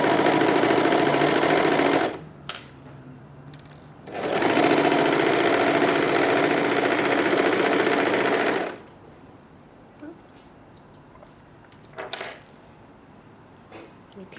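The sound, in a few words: overlocker sewing a t-shirt seam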